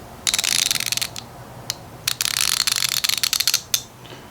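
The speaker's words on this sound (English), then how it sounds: "Now here's what it sounds like. I've been using this ratchet." A Craftsman Overdrive ratchet clicks in rapid close bursts, fast ratcheting runs separated by short pauses and a few single clicks.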